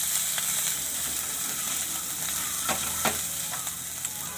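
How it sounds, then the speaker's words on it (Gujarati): Asafoetida sizzling as it is dropped into hot oil, a steady close crackling fry with a few sharper pops and spits rising above the hiss. "આ આપણે હિંગ નાખી દેવું. ઘડીક વાર આપણે આને શેડવી લેવું."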